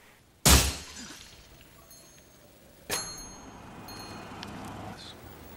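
Shop window glass shatters with a sudden loud crash, followed by a second smaller burst of breaking glass and scattered tinkling shards, at moderate volume.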